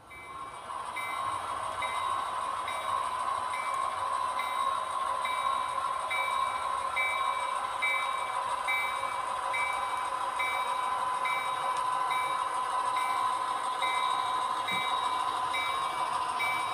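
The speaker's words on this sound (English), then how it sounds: "film a train coming out from Miami Produce onto the main" A small model train runs steadily along its track with a constant whirring hum and faint high-pitched motor whine, no voices.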